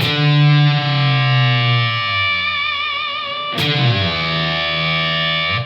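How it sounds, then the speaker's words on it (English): Distorted, fuzzy notes from a Fender Jaguar through a Mother Mary The Fly octave fuzz pedal, held and bent, with a wobbling synthetic low undertone that shifts in pitch; a second sustained chord is struck partway through. "Do you hear that kind of synthesized low tone that drops as the disparity between the two notes I'm playing increases?"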